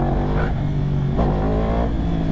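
A 2022 Yamaha R1 motorcycle with an ECU flash tune revs hard under load for a power wheelie, its engine note climbing in pitch, dropping and surging again, loud and close throughout.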